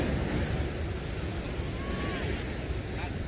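Ocean waves at Laguna Beach, with surfers in the water, make a steady, loud, wide roar of surf mixed with wind rumble across the whole stretch.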